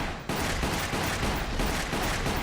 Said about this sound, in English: Whenever I fire a shot, the sound on the Wiimote speaker completely overpowers the sound coming out of the gunshot from the TV.